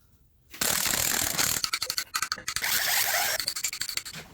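A ratchet wrench removes the side bolts from a 6.0 LS engine block, a burst of loosening followed by rapid repeated ratcheting clicks in quick rhythmic runs, close up.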